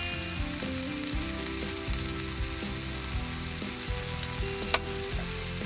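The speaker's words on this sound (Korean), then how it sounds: "넣어 볶아서 고사리와 토란대의 매운맛을 입히고 고춧가루의 풋내를 날려주는 겁니다." Bracken and taro stems stir-fried with chili powder in a pot for yukgaejang, a steady close sizzle broken by the scrape and clatter of stirring, with no talk.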